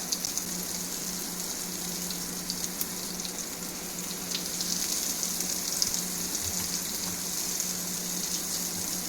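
Brinjal slices frying in a pan on a gas flame make a constant, even crackling hiss that holds steady throughout with no talk over it.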